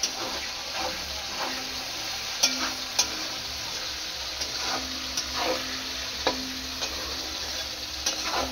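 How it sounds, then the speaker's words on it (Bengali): Onions frying in a kadai for methi chicken at an outdoor picnic, a steady broadband sizzle with occasional sharp ticks and stirring scrapes, close and continuous with no talk. "পেঁয়াজ দিয়ে দিয়েছি ভাজতে কড়াইতে"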